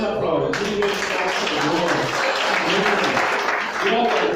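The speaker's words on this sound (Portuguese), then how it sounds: "Quem crê pode aplaudir." A church congregation applauds during an evening service, a steady crowd clapping that starts abruptly and carries on under a voice talking over it.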